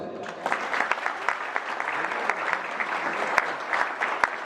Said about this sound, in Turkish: Kendilerini bir alkışlayalım.